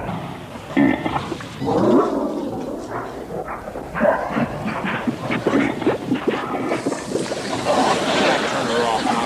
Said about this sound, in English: And start the engines!